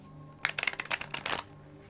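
Tarot cards are shuffled in a quick run of crisp riffling bursts lasting about a second, close and fairly quiet, with no talking.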